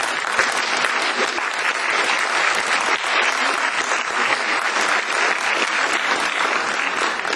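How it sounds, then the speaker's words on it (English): An audience at a 2008 human rights conference in Barcelona breaks into sustained, crisp applause, a thick continuous patter of many hands that holds level throughout. "I would like to invite you to thank Chris and his team publicly by applause."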